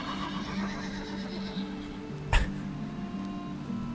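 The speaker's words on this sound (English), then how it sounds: "It is an angry horse," Angry horse in Valheim neighing in a loud, close whinny that rises and falls, with a sharp thump partway through over a steady background drone.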